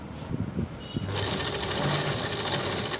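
A sewing machine runs steadily, stitching along a twice-folded hem of a small fabric dress for a deity idol, its motor whirring loud and continuous after a brief quiet start.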